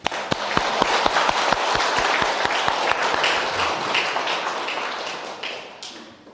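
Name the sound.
congregation's welcoming applause in church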